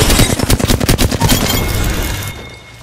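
Sniper rifle fire in the Apex Legends battle royale game, heard as a rapid string of loud, close gunshot cracks over roughly two seconds before the sound tails off into a quieter ambient hum.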